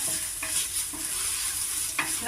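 A mutton chops mixture is stirred in a pan, with continuous close scraping and sizzling and a few clearer strokes of the spoon, and no voices.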